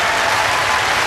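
Audience at a live political debate on leaving the EU breaks into steady, dense applause, loud and close, filling the whole moment without voices.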